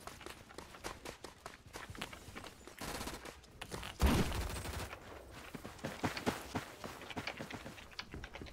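Rapid gunfire and bursts from a video game shootout crackle throughout, with a louder blast midway and running footsteps mixed into the busy, dense action.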